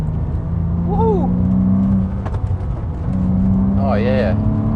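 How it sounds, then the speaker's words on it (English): A 2007 Porsche Cayman with the 2.7-litre flat-six pulls uphill, the engine rising and falling in loud, close revving bursts heard from inside the car, with a couple of short vocal whoops over it. "that's that traditional Porsche flat six sound that you get"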